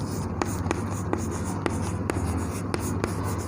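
Pen writing out a math solution for a class 11 trigonometry exercise, a steady scratchy stroke with small regular taps as the pen lifts and lands, close and continuous, with a low hum underneath and no voice.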